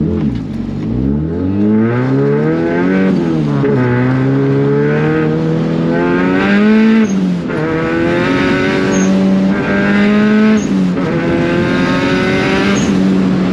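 A fast car with a race-car-like engine, heard from inside during a ride along, revving hard through repeated rising gear pulls, loud and close, with a brief whine near the start.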